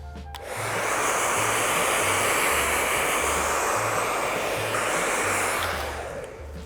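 A hair dryer blasts air over hair to rough-dry it before curl styling, a loud steady roar that starts about half a second in and holds almost unbroken for around six seconds before tailing off.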